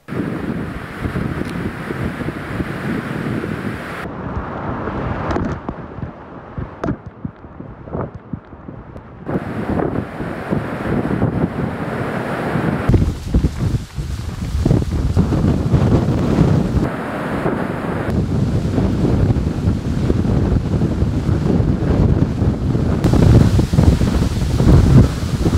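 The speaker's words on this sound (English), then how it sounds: "Yes, there was a lot of wind." Strong wind and crashing waves play back from a video on a storm destroying house roofs, gusting and roaring throughout with rumbling surges and no speech.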